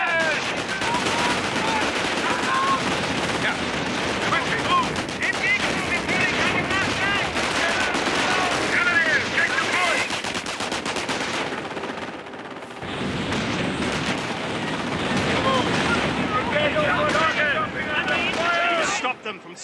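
Sustained gunfire and machine-gun bursts from a World War II battle in the strategy game Company of Heroes: Tales of Valor, loud and continuous with dense overlapping shots, briefly dropping near the middle before resuming, with voices heard amid the fighting.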